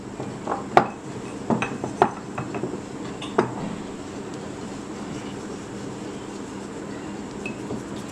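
A utensil clinks and scrapes against a bowl while almond biscotti dough of whole-wheat flour, baking powder and a pinch of salt is mixed. A handful of sharp clinks fall in the first few seconds, then the mixing quiets to a soft background hiss.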